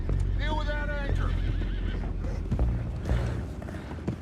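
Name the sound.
horses neighing and hooves, from video game Red Dead Redemption 2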